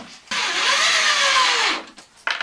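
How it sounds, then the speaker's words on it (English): A power drill drives a screw into a shower floor during a master shower renovation, whirring loudly for about a second and a half with a steady whine, starting and stopping abruptly. "we're going to put screws in all over the place here"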